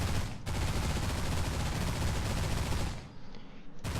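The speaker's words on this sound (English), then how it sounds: "Gunfire." Dense, continuous gunfire in the video game Destination Sol rattles loudly for about three seconds, then drops away briefly before another burst cuts in.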